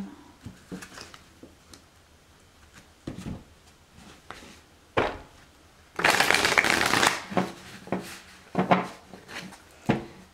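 Tarot cards shuffled by hand, several bursts of riffling and sliding card noise with soft taps in between, close and clear, the longest riffle in the middle.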